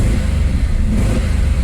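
An engine runs steadily during a clutch pedal test after removal of the over-centre spring, a loud, even mid-range rumble with no breaks for the whole short stretch.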